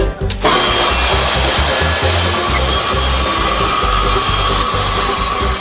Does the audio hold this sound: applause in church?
no